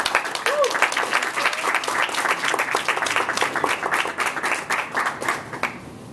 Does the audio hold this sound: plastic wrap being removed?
no